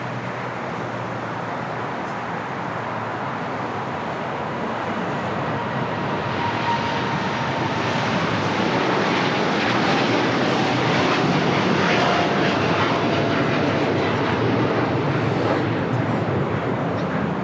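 A Polar Air Cargo jet in DHL livery takes off from LAX bound for Seoul, its broad engine roar swelling steadily and staying loud throughout, with a faint high whine running through it.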